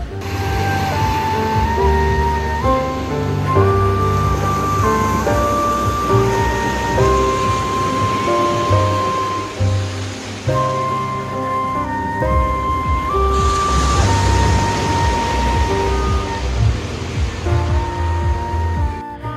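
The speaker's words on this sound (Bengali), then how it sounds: "একটু আপনাদের সমুদ্রের আওয়াজ শোনাই" Sea waves at night on Cat Ba Island, Vietnam, a steady wash of surf that stays loud and continuous throughout, with tonal music or other sounds faintly mixed in.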